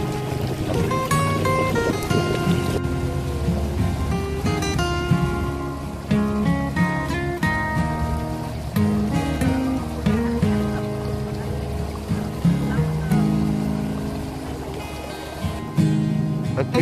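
A loud, steady motor drone carries on throughout, with water splashing and rushing along beneath it, from a tourist boat ride at Yeh Gangga beach in Tabanan, Bali.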